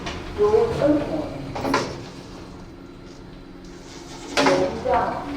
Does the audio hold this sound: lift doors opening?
yes